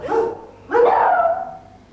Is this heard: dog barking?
yes